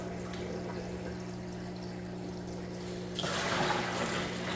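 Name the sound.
water poured from a bucket into a fish tank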